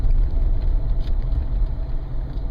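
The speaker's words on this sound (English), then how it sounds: "So I've got this truck right here that I'm driving." A 2000 GMC Sonoma pickup truck rumbles steadily from inside the cab while driving, a low, continuous engine drone with no break or change in pace.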